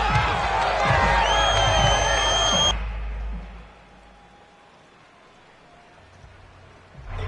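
Home crowd roaring and cheering in an American football video game, a loud, dense wash that cuts off abruptly after a few seconds and leaves a quiet lull.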